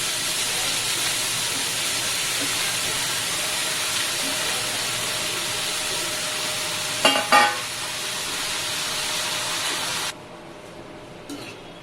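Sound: chopped amaranth greens added to fried onions in pan

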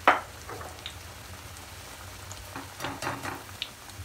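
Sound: bhajiya fritters frying in oil on medium gas

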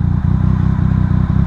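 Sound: motorcycle engine revving during a rev-matched gear change

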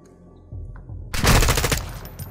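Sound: gunfire in the Call of Duty: Modern Warfare II video game

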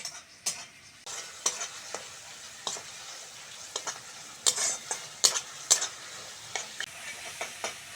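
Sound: stirring and frying spices with turmeric, chili and salt

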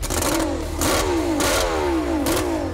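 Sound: F1 racing boat engine roaring

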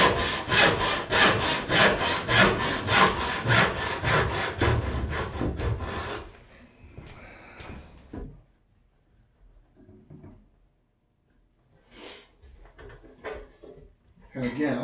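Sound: hand saw cutting a timber joint

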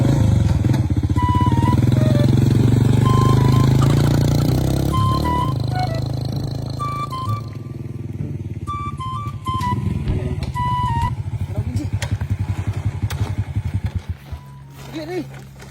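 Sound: motorcycle engine

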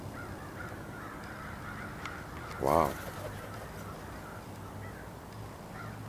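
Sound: crows cawing as a flock approaches

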